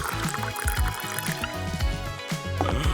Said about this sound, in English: I'll pour that into the bowl.